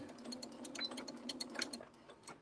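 A sewing machine stitches steadily through a quilt-as-you-go quilt, a fast even mechanical whir with rhythmic needle clicks, fairly quiet and heard alone.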